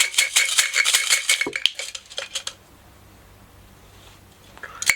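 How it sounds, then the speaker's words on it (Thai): A cylinder of Thai fortune sticks (siam si) shaken hard, a dense close rattle of wooden sticks clattering for about two seconds, a few final knocks, then quiet and one last clack. "มาเสี่ยงเซียมซีกันนะครับ"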